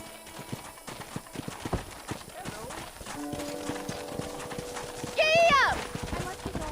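Hooves clip-clop at a steady trot in Red Dead Redemption, with a brief horse whinny partway through, close and clear, with a voice heard over the gait.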